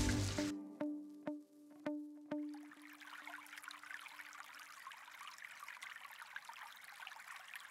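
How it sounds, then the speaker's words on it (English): Water from Artington Spring in Guildford, which flows into the River Wey, trickles and babbles softly and steadily after a few ringing tonal strikes at the start, with no voices. "This is actually Artington Spring, which flows directly into the River Wey."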